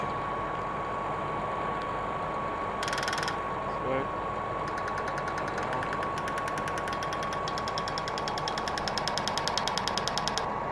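On a seeder working wheat fields in the Saskatchewan hills, a sprayer nozzle pulses in a rapid mechanical ticking over a constant machine drone, with the ticking growing more regular and prominent toward the end.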